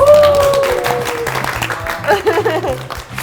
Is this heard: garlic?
no